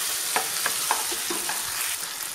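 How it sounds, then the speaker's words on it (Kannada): Capsicum is stirred into sizzling pepper chicken in a pan: a steady close fry hiss under regular scraping stir strokes, with no talking. "ಈಗ ಕ್ಯಾಪ್ಸಿಕಮ್ ಹಾಕ್ಕೊಂಡ್ಬಿಡಿ, ನಿಧಾನಕ್ಕೆ ಕಲಿಸ್ಕೊಳ್ಳಿ"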